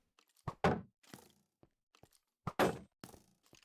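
A Minecraft shield breaks during a skeleton fight: sharp percussive thunks and cracking bursts, two strong broadband hits with smaller knocks and clicks between them, close and fairly quiet, with no speech.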